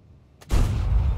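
A single loud tank cannon shot from a B-C25T in the World of Tanks video game: a sharp boom after a quiet moment, followed by a rumbling low tail.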